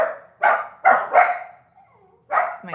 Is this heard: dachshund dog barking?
yes